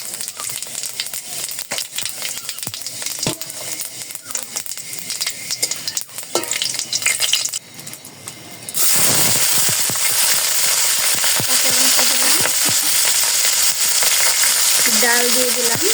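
Bay leaf, dried red chili and panch phoron hit hot oil in a kadai, giving sharp crackling and stirring at first, then a loud, steady sizzle that fills the rest of the clip.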